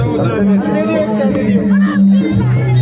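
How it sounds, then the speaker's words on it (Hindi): A dense crowd of devotees at the Kumbh Mela in Prayagraj, with close, steady chatter and babble from many voices filling the clip, plus a steady low drone beneath. "काफ़ी भीड़ यहाँ पर लोगों की देखिए"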